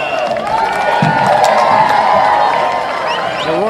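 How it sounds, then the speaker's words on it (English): A large crowd at an evening state tournament softball quarterfinal roars and cheers steadily, a loud, sustained wash of voices with scattered whoops and clapping throughout. "The roar of the crowd to open our nightcap edition here of state softball."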